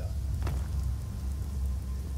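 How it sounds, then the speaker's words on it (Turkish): Rain falling in the video game Skyrim, a steady wash of raindrops with a low rumbling undertone, continuous and even throughout. "Yağmur yağıyor, sislendi Skyrim diyarları."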